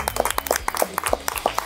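An audience applauds guests arriving on a French TV-style show, a short burst of steady, dense clapping that carries on evenly from start to finish.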